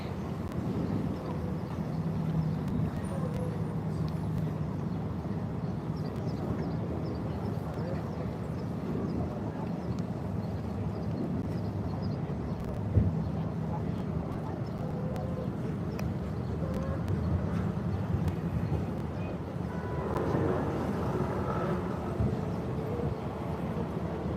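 The Sliema ferry in Malta under way on a sunny day: a steady, moderate rumble of engine and water runs throughout, with people talking faintly in the background.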